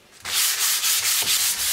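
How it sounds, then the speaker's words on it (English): Light hand-sanding of primed kitchen cabinets gives a steady, close, loud abrasive rubbing in rhythmic back-and-forth strokes, with no talking. "We're going to give them a light sanding."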